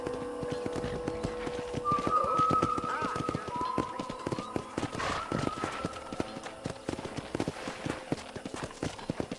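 Steady clip-clopping horse hooves trot along in the Red Dead Redemption game soundscape, with rhythmic clatter throughout and a brief whinny-like tone partway through.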